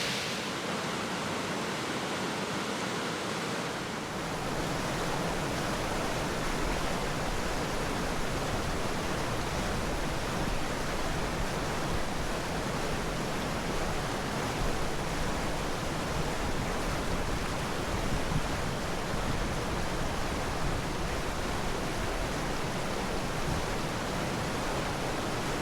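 A waterfall pours into a swimming hole, giving a loud, steady broadband roar of falling water that runs unbroken throughout with no voices.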